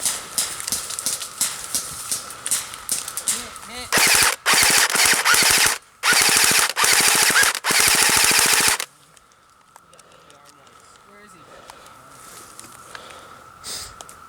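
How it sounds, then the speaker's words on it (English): Airsoft guns firing in bursts during an outdoor game, loud sustained rapid-fire volleys in several stretches with short gaps, followed by quieter ambient outdoor noise. "We're getting shot at, we're getting shot at."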